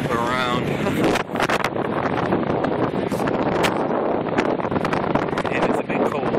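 Cold, rainy wind gusting across an open outdoor spot, a steady loud rush with buffeting against the microphone and brief louder bursts throughout.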